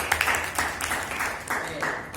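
A classroom group claps for the second presenting group, with a short, light patter of hands under a teacher's voice.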